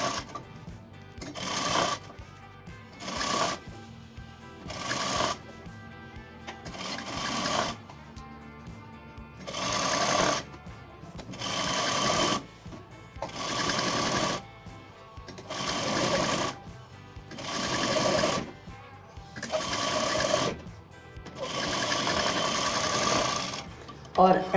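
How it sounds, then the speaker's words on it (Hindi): Sewing machine stitching kurti panels together in repeated short bursts, about a dozen evenly spaced runs of rapid needle clatter separated by quiet pauses, close and moderately loud. "अब हम इसको ऐसे राइट टू राइट ऐसे मैच करके यहाँ से यहाँ तक पूरी स्टिचिंग करेंगे।"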